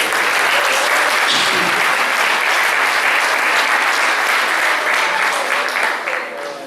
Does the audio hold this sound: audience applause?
yes